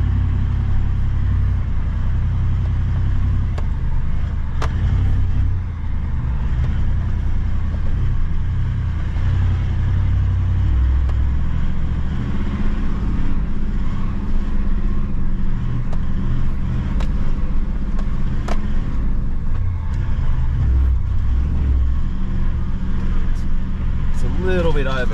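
A Toyota Land Cruiser 79 Series crawls up an overgrown backyard track in four-wheel-drive low, its steady low engine rumble continuous and close throughout, with faint knocks and rustles from the terrain.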